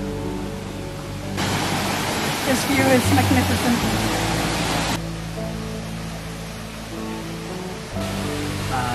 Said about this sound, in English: And hear the waterfall.